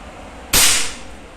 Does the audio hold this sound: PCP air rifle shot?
yes